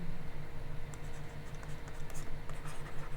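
Pen or chalk writing out maths working in a Class 10 real numbers lesson, a soft continuous scratching with small strokes over a steady low hum.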